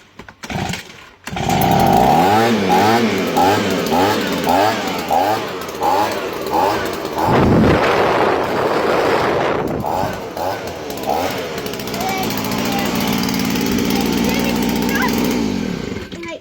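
STIHL BG85 petrol leaf blower being pull-started, the engine catching and running loudly with a pulsing, uneven idle that briefly revs midway before settling into a steady drone.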